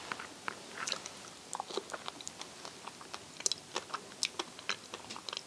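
A Madeira Island Black fig being bitten and chewed up close, a quiet run of soft wet crunches and smacking clicks coming in an irregular rhythm, with no talking.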